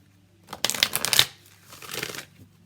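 A deck of Energy Oracle cards being shuffled close up in two quick riffling bursts, papery and crisp, with no voices.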